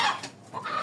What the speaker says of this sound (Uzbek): Men bitta endi o'zim uchun olib qo'ygan tovuqlarim bular, jo'ja tovuqlar.